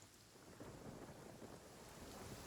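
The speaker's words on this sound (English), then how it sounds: "Why is it raining though?" Rain and thunder in the game Genshin Impact: a steady dense hiss of rainfall under a low rolling rumble of thunder, filling the whole moment with no talk.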